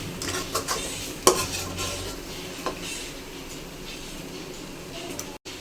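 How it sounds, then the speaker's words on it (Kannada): A spoon stirring salted okra gravy in a pan, scraping and clinking against the metal over a soft steady sizzle, with a sharper knock early on and a faint voice at times. "ಚೆನ್ನಾಗಿ ಮಿಕ್ಸ್ ಮಾಡ್ಕೊಳ್ಳೋಣ"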